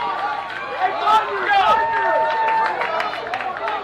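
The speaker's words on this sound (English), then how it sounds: "Crowd getting into it." Baseball crowd at a Class AAA region championship playoff game cheering through a tense inning, a steady roar of many voices with whistles and shouts rising and falling, sustained and fairly loud throughout.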